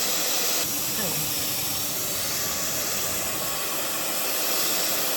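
A Cloud Nine Airshot Pro hot air hair styler running on its first use, a loud, steady, close broadband rush of blowing air that holds constant for the whole stretch.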